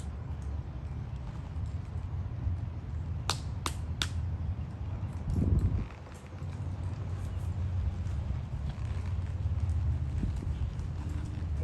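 Hooves of a horse in training thud softly and steadily over a low rumbling background, with a few sharp snaps, and someone talks briefly nearby.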